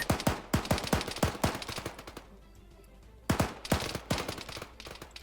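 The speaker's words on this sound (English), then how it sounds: "These guys heard those gunshots." Rapid bursts of gunfire in the Arma 3 video game during a hostage rescue, sharp repeated shots in two volleys separated by a brief quiet gap, loud and close.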